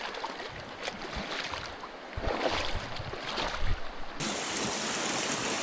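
A high-flowing river rushes steadily along a gold-prospecting stretch of bedrock, a broad constant wash of water with a brighter hiss toward the end, no talk.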